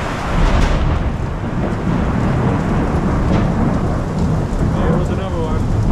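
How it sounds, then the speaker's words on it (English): Thunder rolls through a heavy rainstorm in Dramalj, a deep loud rumble over constant hissing rain pouring down on surfaces close by. "That was light and then thunder straight away, which means it's very, very close."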